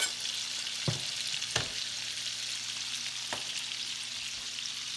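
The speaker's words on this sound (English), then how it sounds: "I'm going to add the garlic now." Garlic sizzles steadily in a pan of hot oil and butter with shrimp and clams, a constant bright crackle broken by a few sharp clicks of a utensil against the pan, no voices.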